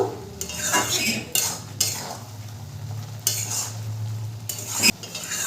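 Mustard paste is stirred into cooked tomato chutney with a spatula, giving repeated scraping strokes and metal clinks against the pan over a soft sizzle, close and without talk.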